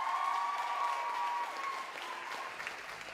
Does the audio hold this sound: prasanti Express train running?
no